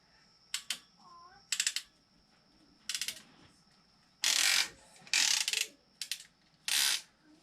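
A ratcheting crimp tool clamps a 1/2 inch PEX pipe clip during a Shark Bite spigot install, giving several bursts of close, sharp clicking and ratcheting, with a brief pause between each squeeze and no talk.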